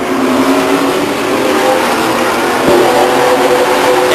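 Race trucks at Stockton 99 Speedway roaring around the oval in a steady, loud, dense engine drone, several motors blended together with a slight swell as the pack passes near.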